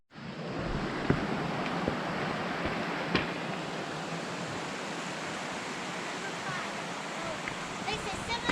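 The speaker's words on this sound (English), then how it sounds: "Waterfalls." A waterfall on a Colorado mountain trail gives off a steady, broad rushing wash of falling water, even and unbroken, with a few faint knocks and distant voices briefly over it.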